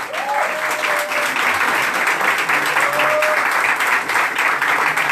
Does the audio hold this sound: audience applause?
yes